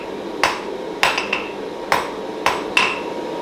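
A blacksmith's hammer strikes a thin metal rod while forging delicate leaves, five or six sharp ringing blows at an uneven pace, near and loud, with a few lighter rebound taps and no talk.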